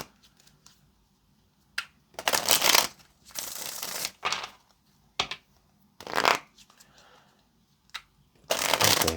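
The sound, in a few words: tarot cards being shuffled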